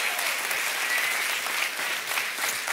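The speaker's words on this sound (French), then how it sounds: "est-ce que nous ici à Bordeaux, on peut applaudir bien fort, à Paris également," A church congregation in Bordeaux applauds, a dense, even wash of many hands clapping at moderate volume with no break.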